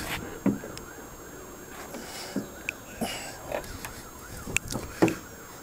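A police-style siren wails from around an old Chevy Caprice with a five-litre V8, its rising and falling tone repeating steadily over several seconds, with short knocks and clicks on top.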